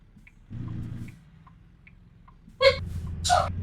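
A single sneeze bursts out near the end, a sharp close burst followed by a second breathy puff, over quiet background hum during a multiplayer truck-driving game session.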